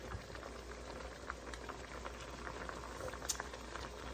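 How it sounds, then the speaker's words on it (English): Liquid boiling in a pan while making egg tofu with mushrooms: a steady, soft bubbling and crackling simmer with scattered tiny pops, quiet and close, with no talking. "I'm gonna just let it sit until it's boiling"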